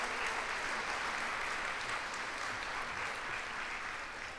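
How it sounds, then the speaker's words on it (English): Sustained applause from a festival audience fills the space, a dense even roar of many hands clapping at steady loudness throughout, slowly easing near the end. "Please join me in thanking them for their incredible support."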